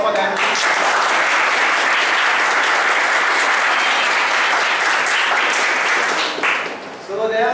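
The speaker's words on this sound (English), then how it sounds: "please allow applause for them" An audience at a Teachers Day celebration at ITM Universe Vadodara gives the faculty a loud, dense burst of applause that holds steady for several seconds before tapering off, with a voice briefly heard near the end.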